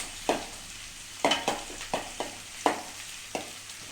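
Curry leaves dropped into hot oil while preparing pickle, sharp sizzling bursts and spatters recurring irregularly, several crackling pops over a quiet background with no voices.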